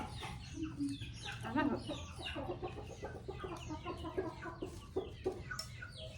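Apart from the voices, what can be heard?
rooster and chickens clucking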